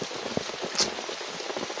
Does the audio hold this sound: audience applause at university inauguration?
no